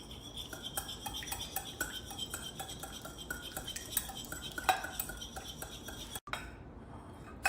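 A whisk or utensil works souffle pancake batter in a bowl with quick, steady scraping and clinking strokes, close and alone, stopping abruptly near the end.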